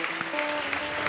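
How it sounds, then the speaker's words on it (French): A church congregation at a Haitian prayer service claps together, a short, even wash of applause from a crowd lasting about a second with a faint voice underneath. "Bon Dieu, applaudissement."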